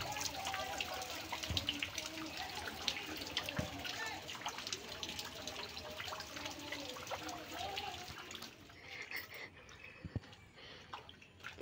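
On a rainy day in a village, rainwater floods a yard up to the edge of the steps, giving a constant rushing wash of water with faint splashes, heard fairly quietly.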